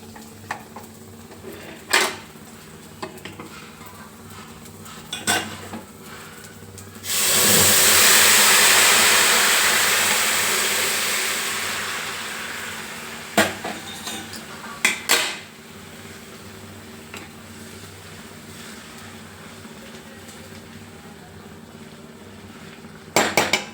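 Semiya upma being stirred in a pot: scattered spoon clinks and scrapes, then a loud hiss and sizzle that rises sharply and fades over several seconds.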